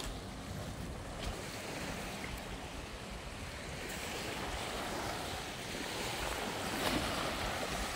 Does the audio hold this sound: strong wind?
yes